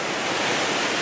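Lumb Hole Falls, a waterfall, roars as a steady broadband rush of falling water, loud and continuous from close range with no voices.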